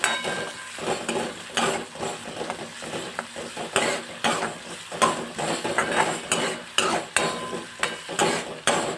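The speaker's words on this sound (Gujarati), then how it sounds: "ડુંગળીને આપણે ગોલ્ડન બ્રાઉન સુધી કૂક કરી લઈશું" Chopped onions sizzle in a hot pan, frying toward golden brown, while a utensil scrapes and stirs in repeated strokes, the frying hiss rising with each stir.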